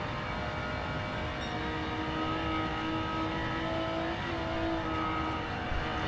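A Honda NSX engine roars continuously on the Nordschleife in Gran Turismo 7, a loud, steady drone with a shifting pitch as the car holds speed through the lap.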